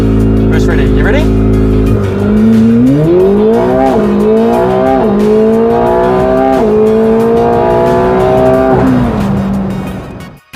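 McLaren 750S at launch control, a loud sustained engine roar that builds steadily as the car accelerates at full throttle, with rising whine and brief dips at gear changes, a person talking over it.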